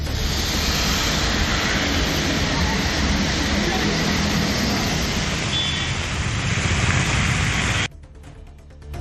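Steady, loud rush of heavy rain driven by strong wind in Chennai, a dense continuous roar filling the whole clip before dropping away abruptly near the end.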